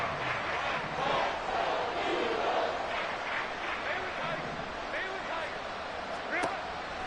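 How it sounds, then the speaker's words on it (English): A stadium crowd at an American football game swells into a loud, sustained roar on a third-and-long play, a dense wash of cheering heard from within the stands. "This crowd turning up the decibel level"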